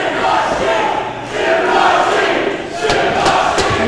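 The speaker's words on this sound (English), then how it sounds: "The crowd trying to hype him back up." A wrestling crowd at a Reality of Wrestling match roars continuously and loudly, swelling and dipping as fans try to rally a wrestler, with a few sharp shouts rising near the end.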